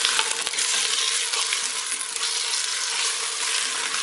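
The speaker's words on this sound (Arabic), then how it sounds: "نخلي شوية الدجاج مع البصل والثوم يتقلى" Chicken frying with onion and garlic in a pan gives a dense, steady sizzle with light stirring scrapes. Nobody speaks.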